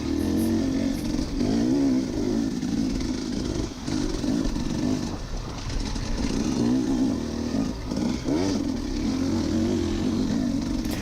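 Dirt bike engine of a rider closing in from behind during an enduro race, a steady loud droning roar with rising and falling revs throughout, over the rider's own engine noise.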